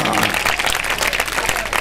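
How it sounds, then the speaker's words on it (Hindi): An audience in a lecture hall breaks into dense, continuous applause, with many hands clapping at once. The clapping is loud and sustained throughout. "आप जब ताली बजाते हो तो मुझे समझ में आता है कि आपकी समझ में आ गया"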